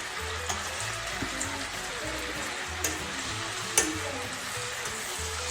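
Lamb loin chops sizzle and fry steadily in a pan, a loud, continuous crackle with a few brief clinks and no talk over it.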